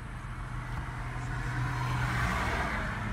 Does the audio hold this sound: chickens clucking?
no